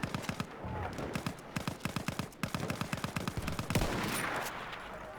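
Rapid bursts of machine gun fire in Battlefield 1, a fast rhythmic string of close, loud shots that breaks off partway, followed by a rumbling wash of battle noise.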